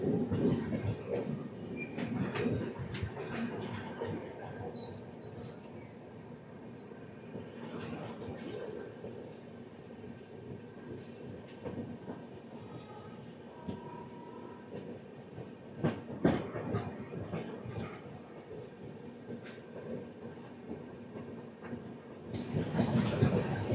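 The Korba Express, train 18518, runs through Urga railway station without stopping, wheels clattering and rumbling with scattered sharp squeals and clanks; the noise swells and fades and grows louder again near the end.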